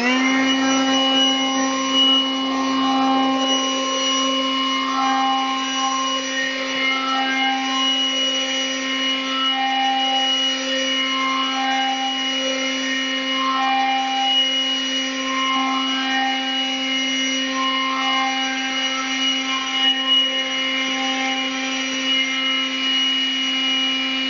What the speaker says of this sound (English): I'm going to take one pass with the blower and see how far I can move the snow.